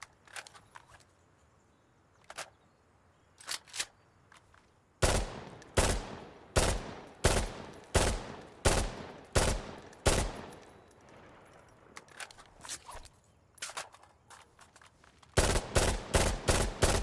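Assault rifles firing in the video game Insurgency: Sandstorm: a few scattered single shots, then a loud run of evenly spaced bursts, a quieter stretch, and a final rapid burst close up, with no talk.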